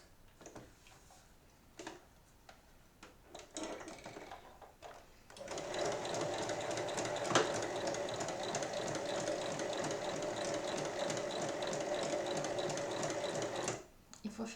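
A sewing machine stitches the side seams of a fabric tray, a close, rapid mechanical whir-and-tick running steadily for about eight seconds after some quiet handling noises and faint voice.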